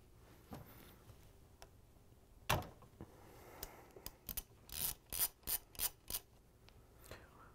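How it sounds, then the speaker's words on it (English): Ratchet with a number 3 Phillips bit breaking tight screws free on a Whirlpool/KitchenAid/Maytag speed control assembly: quiet clicking ratchet bursts, a sharp crack, then a rapid run of five or six loud ratcheting strokes, close and alone. "we're going to use a ratchet with a number 3 Phillips bit to take out these big screws"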